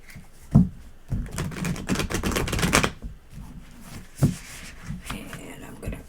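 A deck of Spirit Animal Oracle cards being cut and shuffled, giving a run of close, dry papery riffles and taps with soft handling noise in between.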